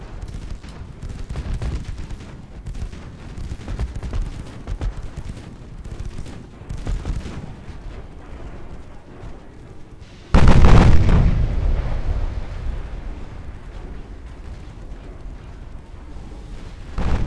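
Warship main guns firing in Ultimate Admiral Dreadnoughts, one loud heavy boom with a long rolling decay, preceded by a stretch of scattered distant gunfire and battle rumble.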